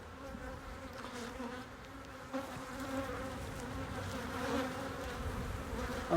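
Honey bees buzz around a beehive in a continuous, dense drone, with individual insects passing close now and then over a steady hum.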